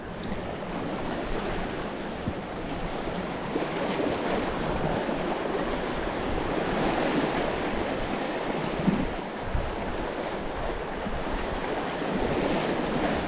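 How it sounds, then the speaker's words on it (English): Wind blows across the shore at Prawle Point in South Devon, a continuous rushing roar that swells and eases slightly, heard alone without speech. "There's a little bit of wind in my face"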